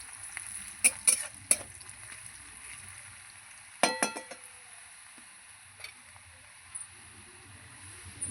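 Mustard and green chili paste masala hitting hot oil with fried onion in a pan, a soft continuous sizzle broken by several metallic spatula clinks and scrapes, close and with no talk.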